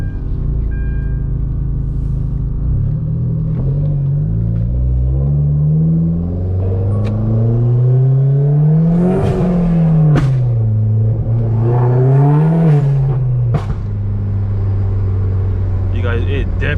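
A modified Hyundai Genesis Coupe accelerates on a test drive, its engine droning up through the gears with rising and falling pitch, heard from inside the car, with a person talking over the loud exhaust.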